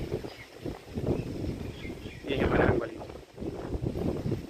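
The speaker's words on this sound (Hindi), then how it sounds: "हवा चल रही है" Wind gusting across the open air beside a village pond, a broad rushing roar that swells and eases in waves, loudest in the middle, with faint talk mixed in.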